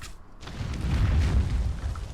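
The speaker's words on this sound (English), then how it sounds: "1 arrow, 3 explosions" A deep, booming explosion in the video game Conan Exiles rumbles out after a brief quiet moment, heavy low-end thunder that swells and lingers.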